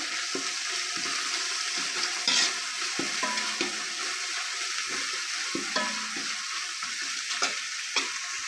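Fresh coriander and mint frying in a pan for a chicken pulao, a steady loud sizzle with occasional stirring scrapes and clinks, close up and with no voices.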